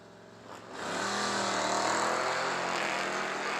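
Drag racing cars launching off the line at London Dragway, one a Mustang, engines rising from a rumble into a loud sustained high-revving roar after a short build-up.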